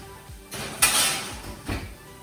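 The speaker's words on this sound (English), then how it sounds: "That right now is gonna go in the oven." A roasting tray of vegetables tossed in olive oil and seasoning is slid into the oven, giving a few loud metallic clanks and scrapes of metal on the oven rack, close by, with no talking.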